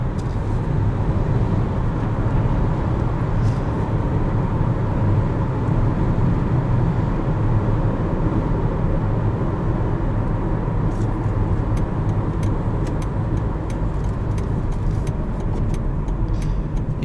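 The 2.4-litre engine of a 2017 Jeep Compass High Altitude hums steadily under a constant wash of road and cabin noise while driving, with a few faint ticks near the end.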